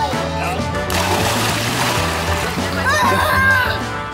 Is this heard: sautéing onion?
no